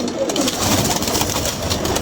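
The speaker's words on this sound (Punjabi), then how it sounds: "ਹੁਣ ਕਰੀਚੇ ਪਏ ਨੇ ਕਬੂਤਰ ਸਾਰੇ ਤੁਹਾਨੂੰ" A flock of pigeons coos softly and continuously nearby, a low burbling murmur with no talk over it.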